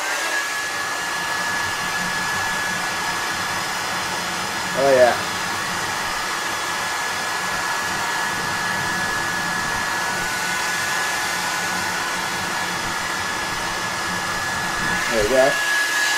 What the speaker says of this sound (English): Hair dryer's on.